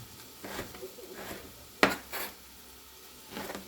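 A knife cutting kimchi for pork-neck kimchi stew, a few separate soft scraping strokes on a board with one sharper knock, close and quiet.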